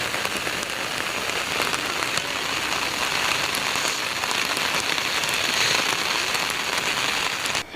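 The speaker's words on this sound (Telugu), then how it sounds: "ఇక చెరువు ఉందా లేదా, పొంగి పొర్లుతుందా అన్నట్టు వాన పడుతుంది." Heavy village rain pours down in a dense, unbroken roar of drops striking surfaces, loud and constant throughout.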